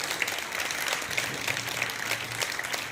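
Schoolgirls in a girls' senior secondary school program clap loudly for the daughters, a steady wash of many hands with scattered sharper claps throughout, with a low hum underneath.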